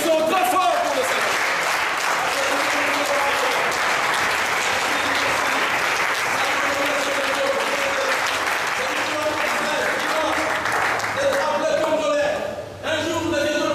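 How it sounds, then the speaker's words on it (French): A Congolese church congregation applauds loudly during worship, a sustained, dense roar of many hands clapping that continues for over twelve seconds before briefly dipping near the end. "Applaudissons très fort pour le Seigneur."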